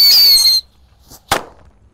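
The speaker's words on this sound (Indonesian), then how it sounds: "kita nyalakan mercon tikusan tor guys. Kita nyalakan dua sekaligus ini." Two mercon tikusan ground-spinner firecrackers go off outdoors: a loud, high shrill squeal for about half a second, then a sharp single bang after a short silence.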